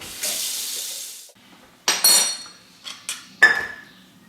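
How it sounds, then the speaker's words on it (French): Water is poured into a pot for homemade artisan bread dough, a brief close hiss of running water followed by several sharp metallic clanks and knocks of the pot and utensils. "je vais mettre mon chaudron et je vais ajouter 500 g d'eau"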